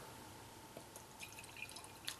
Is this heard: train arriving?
no